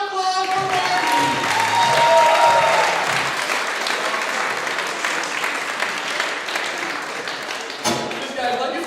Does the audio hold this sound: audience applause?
yes